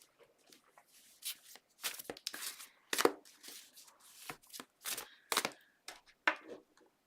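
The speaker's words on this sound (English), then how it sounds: "I'll just start shuffling the cards" Tarot cards being shuffled by hand, a series of crisp, close bursts of slapping and riffling cards in an uneven rhythm, with quiet gaps between them.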